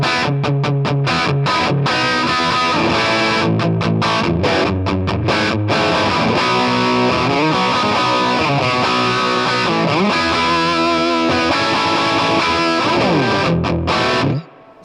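Electric guitar played through a Marshall-style overdrive pedal with a lot of gain, giving a dense, loud, distorted tone with continuous chords and riffs that ends abruptly near the close.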